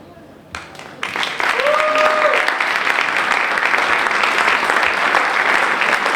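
An audience applauds a young performer at the Premio Targa48 2024 award evening. After a quieter opening with some talk, the clapping swells in and holds loud and dense to the end.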